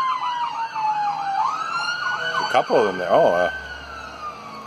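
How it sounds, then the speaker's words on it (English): Police and fire truck sirens passing close by, wailing and yelping in overlapping sweeps that shift pitch as the vehicles go past, with someone talking briefly over them. "police, and by sounds of it, a fire truck"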